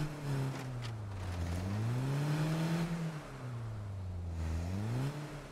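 A car engine in State of Decay 2 revs up and down in smooth, sweeping surges as the vehicle drives, loud and steady throughout with no talking.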